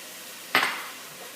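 A single quick stir of garlic and chili powder through a Texan stew in a pot, one short scraping swish with a faint sizzle trailing off, close by and alone.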